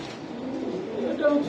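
Maltese pigeons coo in soft, low, rolling calls close by, with a faint voice murmuring underneath.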